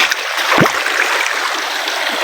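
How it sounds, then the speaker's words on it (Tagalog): River water flows over rocks in a Batangas stream, a steady broadband rush close by with a brief low splash near the middle and no voices. "dito po ay ilog ng Batangas"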